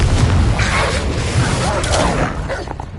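A Confringo fire spell blasting in Hogwarts Legacy, a dense booming explosion with a rumbling low end and crackling bursts sustained across the moment, loud and close.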